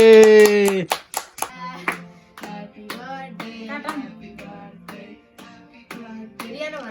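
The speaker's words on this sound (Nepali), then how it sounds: "ल ताली बजाऊ दुईजना ताली" Two people clap at a birthday celebration, a short run of sharp separate claps mixed in with children's voices and other people talking close by.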